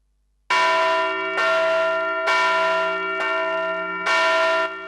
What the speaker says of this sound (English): On Thursday, the bell tolls in Astana were dedicated to the newly elected Pope.